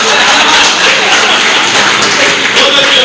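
An audience at a mushaira applauds a poet with a dense, steady wash of clapping that stays loud and even throughout.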